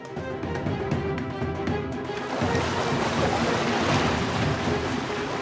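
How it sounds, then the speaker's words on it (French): Ocean waves surge into a bay, a steady broadband roar of rushing water and surf that swells louder midway and continues without pause. "L'onde océanique prend de la vitesse et se retrouve projetée vers le fond de la baie."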